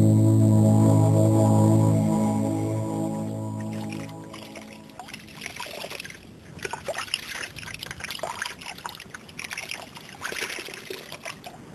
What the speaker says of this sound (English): paddling back to the beach